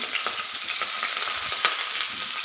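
Chopped veldt grape (nalleru) stems frying in a pan for a chutney: a steady, even sizzle with faint crackles throughout, fairly quiet and with no voices.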